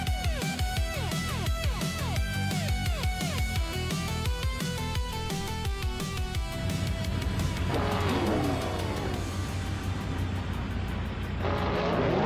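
Race cars start at Road America in a racing video game, a pack of engines revving hard with rapid rising pitch sweeps from repeated upshifts, then a denser roar as more cars accelerate, loud and continuous.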